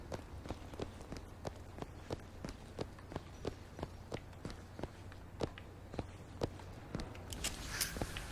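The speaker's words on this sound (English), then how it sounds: "Footsteps seem to go down to the vault." Steady footsteps in the video game BioShock Infinite, about two per second, walking at an even pace over a low constant hum, with no talking.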